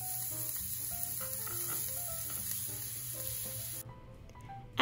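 Steak frying in hot oil in a pan, a steady close sizzle with faint crackles that carries on evenly, then thins out near the end.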